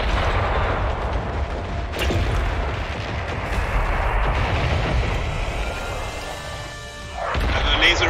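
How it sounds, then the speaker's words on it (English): Wall rammers fire during Worbital gameplay: a dense, loud, continuous rumble of booming blasts, with sharper impacts punching through every second or two. "They're firing wall rammers at us, by the way."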